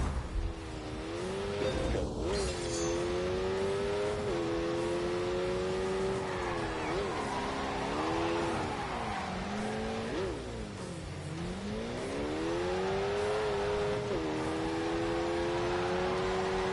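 Lamborghini engine in The Grand Tour racing game, revving continuously with rising and falling pitch through gear changes, loud and steady with no talk over it.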